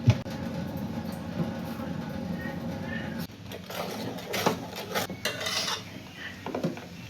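Shrimp frying in hot oil in a pan, stirred with a utensil: steady sizzle with repeated scraping and clinks of metal against the pan, continuing throughout at close range with no talk.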